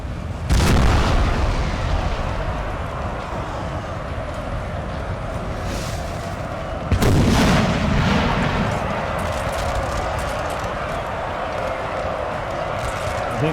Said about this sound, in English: Yeah, the artillery is firing.